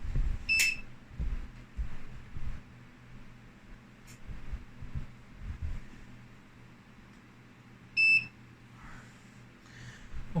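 An Armac 650 UPS running on battery after its AC power is removed gives two short, sharp electronic beeps several seconds apart over a low background hum and handling noise.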